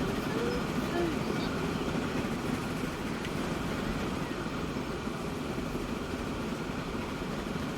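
A freight train with tanker cars and boxcars running in the video game Transport Fever 2, a steady rumbling roll that continues evenly under a voice speaking.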